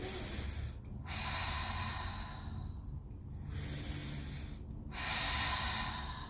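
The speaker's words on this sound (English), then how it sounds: "it's like breathing out with a hush sound in like yoga" Long, forceful yoga-style exhalations with a breathy hushing hiss during an abdominal exercise, two drawn-out breaths separated by brief pauses, close and fairly quiet.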